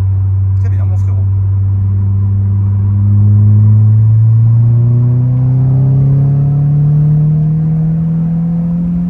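A heavily lowered car pulls hard in third gear, its engine note rising steadily and loudly into a strong, swelling drone with no one talking.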